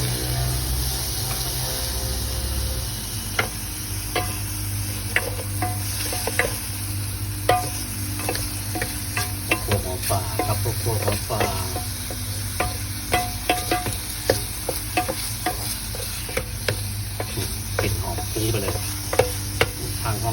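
Shrimp fry in a hot pan with a continuous sizzle, while frequent sharp clicks and scrapes of a utensil stirring them come through close and fairly loud.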